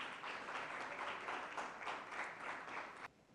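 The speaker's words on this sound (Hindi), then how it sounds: "तालियां बजती रहनी चाहिए" An audience at a live stage event in Ujjain applauds steadily, a dense and fairly loud wash of clapping that holds for about three seconds and then cuts off abruptly.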